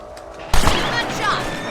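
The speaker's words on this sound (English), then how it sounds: "You're better at shooting rabbits than outlaws, I see." A single gunshot in the Red Dead Redemption video game cracks out sharply during a rabbit hunt, followed by a booming decay and lingering rumble, with game voices in the scene.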